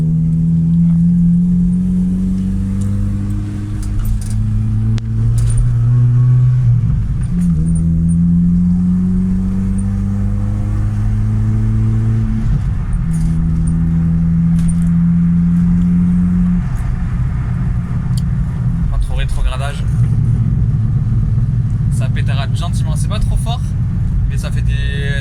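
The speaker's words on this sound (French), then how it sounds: "ça fait des jolis petits pop bang" A Volvo 240 with a stainless steel exhaust idles and revs through several rising and falling engine pulls, with small pops and bangs, loud and close, while someone talks over it.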